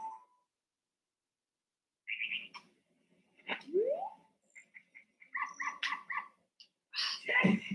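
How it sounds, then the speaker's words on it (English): Hover boots in Ocarina of Time give a yappy, puppy-like bark sound, heard in several short clear bursts and chirps spread over the stretch, with quiet gaps between them and no talk. "I love that the hover boot sound is just a puppy barking."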